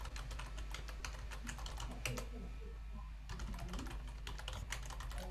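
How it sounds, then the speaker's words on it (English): Rapid, steady keystrokes on a computer keyboard, fairly faint and close, with a short pause midway and a continuous low hum behind. "I'm not typing very well today."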